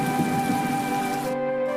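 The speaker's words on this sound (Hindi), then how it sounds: "ये तो बहुत तेज बारिश हो रही है" Heavy rain pours down steadily in a village, a dense continuous hiss that stays loud and unbroken throughout, with faint tonal sounds beneath it.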